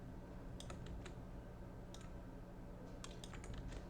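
Scattered, quiet clicks of a computer mouse while working in Figma, a few isolated taps and short clusters of clicks over a low steady background hum, with no talking.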